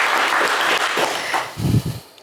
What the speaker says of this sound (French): on vous applaudit également